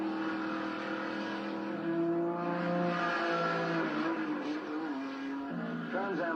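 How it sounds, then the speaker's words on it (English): Trans Am road racing cars, specially prepared production cars such as the AMC Javelin, roaring continuously around a twisting circuit, with engine notes rising and shifting as cars pass close by and loud throughout. "Trans Am racing is North America's newest thrill sport, combining tough twisting Grand Prix style circuits with specially prepared production cars"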